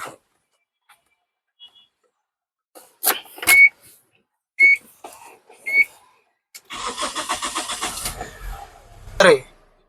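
A used 2011 Tata Indica eV2 car starting up: a few short chirps and clicks, then the starter cranks in a rapid pulsing rhythm for about two seconds before a final burst as the engine catches, close by.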